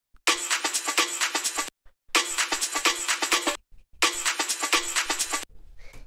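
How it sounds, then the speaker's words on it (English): An old-school German bass jungle-style drum break sample, chopped within a techno track: three bursts of rapid, bright, busy drum hits, each cut off abruptly and separated by short silent gaps. "we have this jungle break, which sounds like this"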